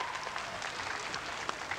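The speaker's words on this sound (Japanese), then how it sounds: "場内から拍手が湧いております。" A wrestling arena crowd at a 1987 All Japan Women's Heat Up Venus show breaks into faint, distant applause, a steady wash of scattered clapping with a few sharper claps standing out.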